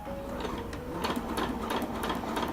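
A sewing machine stitches a seam on a cold-weather hammock underquilt, a close, fast, even mechanical whir with rapid needle ticks running steadily without pause.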